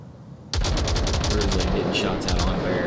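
Rapid automatic gunfire in a competitive video game match, a loud, steady string of close shots starting abruptly and continuing to the end with a brief dip.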